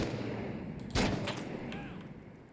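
A sharp gunshot cracks out about a second in, followed by a few fainter echoing reports, in the Six Days in Fallujah military shooter game, amid a low ambient battlefield hum.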